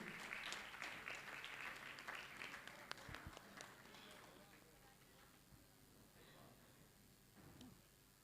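An audience at a Jain monk's question-and-answer gathering claps in honour of the next participants. The applause is fairly quiet and somewhat distant, heaviest at first and then thinning out.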